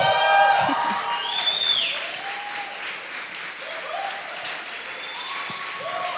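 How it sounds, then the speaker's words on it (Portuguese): A church congregation applauds Pastor Silvio, with clapping, cheers and whoops rising at first then easing to a softer, steady patter, with tonal calls and voices drifting above it. "Essas palmas foi para o pastor Silvio"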